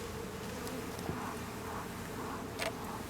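Honeybees buzzing around an open hive during an inspection, a continuous high-pitched insect drone close by with brief louder passes and no talk.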